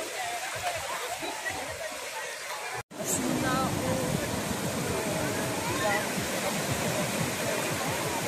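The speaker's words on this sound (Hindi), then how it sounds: "समुद्र में सुबह सुबह देखो कितना ज़्यादा लहर है" Sea waves at a beach in the morning, a continuous broad rushing wash of surf, loud and close, with a brief dropout partway through and faint crowd babble underneath.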